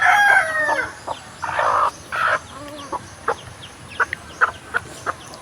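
Fighting roosters crow loudly up close, with bursts of clucking and short calls in between against a steady outdoor background.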